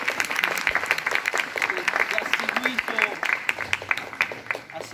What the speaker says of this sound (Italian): chiedo un applauso per lei,